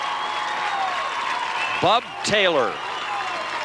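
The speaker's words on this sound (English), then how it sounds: "the applause you hear below us, folks, is for their halfback" Crowd applause in the stands at a 1994 high school football championship game, Valley versus Ceredo-Kenova, for a halfback leaving the field; a steady, moderately distant wash of clapping sits under a commentator's voice.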